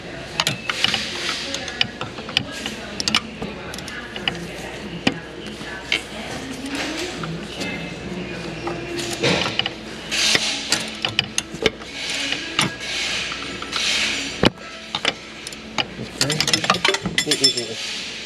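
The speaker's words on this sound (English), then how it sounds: "let's grab 14 here. I'm using a deep socket right now." Ratchet with a deep socket working bolts on a Hyundai Palisade during an alternator replacement, giving quick clicking bursts and metallic ticks under intermittent talk.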